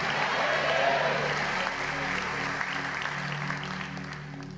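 Steady applause from a church congregation, continuous clapping filling the space at a moderate level without pause.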